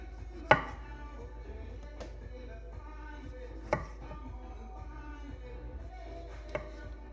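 A knife slicing fresh garden tomatoes on a cutting board, a few distinct chopping knocks spaced a couple of seconds apart with quieter cutting sounds between, close and fairly soft, no speech.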